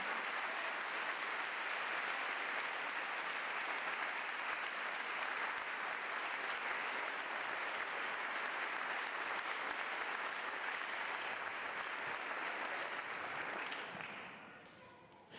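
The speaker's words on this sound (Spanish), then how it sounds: "Dale un fuerte, fuerte, fuerte, fuerte aplauso." A church congregation applauding during a sermon: dense, loud, sustained clapping that holds steady for many seconds before tapering off at the very end.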